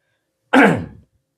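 A preacher giving a Quran study lecture coughs once, a single loud, close, harsh burst lasting about half a second, alone in otherwise silent surroundings.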